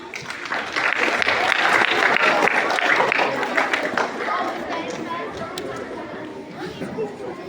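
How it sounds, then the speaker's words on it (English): Students and audience at a school inter-house speech competition clap for the competitors, a loud burst that gradually thins out, with crowd chatter and voices mixed through it. "let's give a huge round of applause to our all competitors"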